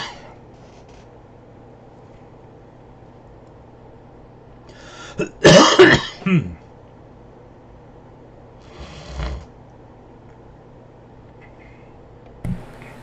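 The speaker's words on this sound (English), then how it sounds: "I had to cough quite a bit" One man coughs hard at close range in a quiet room, a burst of several rough coughs in the middle, then a single smaller cough and a short final one after long silences.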